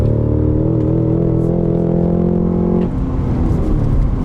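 A 2022 Cadillac CT5-V Blackwing sedan runs hard in fifth gear on the VIR race track, a loud, sustained engine drone that holds steady and then drops in pitch as it eases off near the end.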